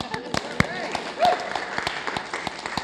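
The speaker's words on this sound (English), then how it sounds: "Give her a round of applause." Scattered clapping from a conference audience, a few distinct claps spread across the moment rather than a full ovation, with some voices faintly audible in the room.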